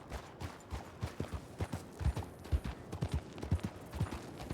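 Horse hooves clip-clopping in a Wild West roleplay video game, a small horse carrying two riders; steady close, fairly loud rhythmic hoofbeats alone, with no talk.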